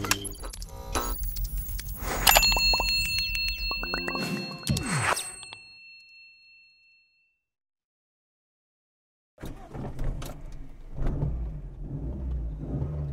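A 1992 Toyota Corolla AE92 with 393,000 km starts on the first crank, with jingling keys and a chime before the engine catches and revs, then a silence before the idle returns.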